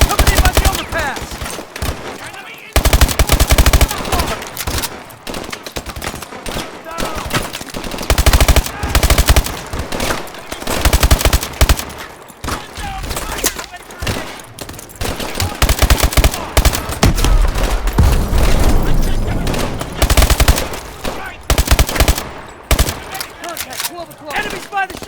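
Call of Duty: Advanced Warfare gunfire rattles loud and dense for the whole stretch, with sustained machine-gun bursts and overlapping shots in combat, and shouted voices now and then under the fire.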